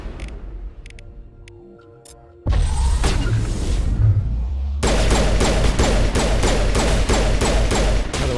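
Rapid gunfire in the sci-fi shooter Mass Effect Legendary Edition: loud, evenly spaced bursts of shots that start after a quieter stretch and run on steadily with thuds underneath, and no talk.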